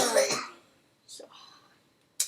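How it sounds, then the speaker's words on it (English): A brother coughs and clears his throat in a few short, close bursts separated by quiet gaps, with a faint breathy sound between them. "I'm very sorry about my brother's coughing"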